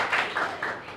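Three or four quick hand claps, close and fairly loud, welcoming a maths lecture in a classroom-style setting.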